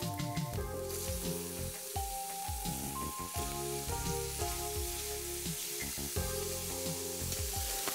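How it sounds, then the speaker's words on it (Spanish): Hake and prawns sear in a hot pan with onion, giving a loud, continuous crackling sizzle over background music, with no one talking. "Una vez que hemos sellado la merluza y las gambas"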